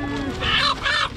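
A black chicken at a highland market gives a couple of quick, loud, close clucks, each short and squawky with a brief gap between them.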